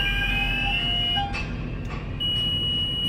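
A tower crane's warning alarm, sounding during dismantling to signal maximum load, rings as steady high-pitched tones throughout, loud and continuous over a low machinery rumble, with a brief dip partway through.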